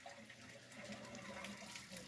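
Water runs steadily from a farm irrigation hose in a field, a continuous close rushing and splashing with no voices.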